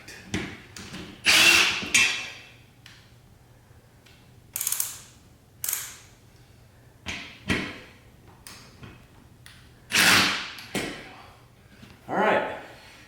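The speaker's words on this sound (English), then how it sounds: "now it's drilling some more holes and getting this permanently attached" Power drill boring holes to permanently fix a roof top tent lifter, heard in repeated short bursts of whirring spaced a second or two apart, loud and close over a low steady hum.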